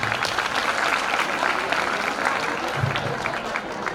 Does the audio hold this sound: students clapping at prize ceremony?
yes